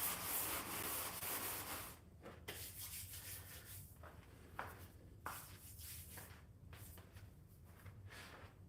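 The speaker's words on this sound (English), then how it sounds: "I just was finishing up this last section, sanding the rails." Fine 320-grit sanding block rubs back and forth along model train track rails in quick, repeated scraping strokes, close and soft, with no voices.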